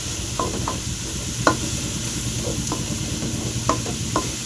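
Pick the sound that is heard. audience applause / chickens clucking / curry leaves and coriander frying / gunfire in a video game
curry leaves and coriander frying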